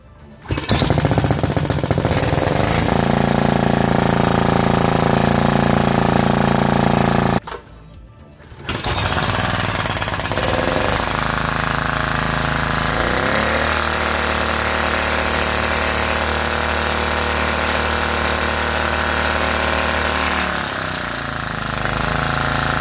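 A Briggs and Stratton generator fitted with a new quieter silencer starts and runs with a steady buzzing engine drone that briefly cuts out, then restarts and settles into a continuous close, loud hum with no voices.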